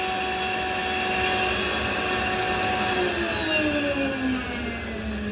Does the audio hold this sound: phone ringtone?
no